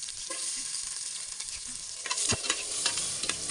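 Garlic hits smoking-hot oil in a casserole pot over coconut-shell charcoal, giving a bright, continuous sizzle punctuated by sharp scrapes and clinks of stirring.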